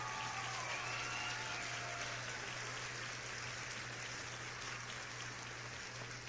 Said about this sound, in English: We got to give Greg a round of applause for these bars he's chop dropping.